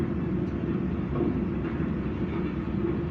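A simulated train locomotive runs in notch 1 in a train simulator game, producing a steady, heavy low engine rumble that stays even and continuous, with no voices heard.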